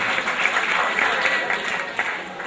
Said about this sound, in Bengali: আমরা তাদেরকেও হাততালি দিই।